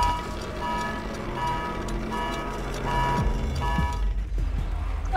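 An alarm sounds in the video game Stray, repeating regular beeping tones over a dense mechanical background hum, fairly loud and continuous without speech.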